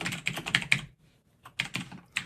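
Rapid keystrokes on a computer keyboard while entering a line of code, a close burst of clicks, then a brief pause, then another quick run of taps.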